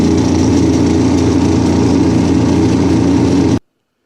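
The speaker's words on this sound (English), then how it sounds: "So I'm going to go ahead and drill these 2 holes and put the pins in." A power drill bores holes in a wooden handle for a saw-blade fillet knife, a loud steady motor whine running continuously before cutting off abruptly.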